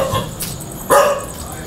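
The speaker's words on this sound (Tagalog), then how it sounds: "May aso. Ayan, mas nakakatakot yung aso." A dog barks nearby, a couple of short sharp yaps at night in a quiet setting, with people murmuring around it.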